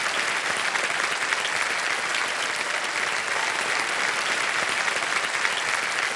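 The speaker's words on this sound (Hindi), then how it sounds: "बहुत जोरदार तालियां बजे इनके लिए।" A studio audience at a televised quiz game show bursts into loud, dense applause, many hands clapping in a continuous roar that holds steady throughout.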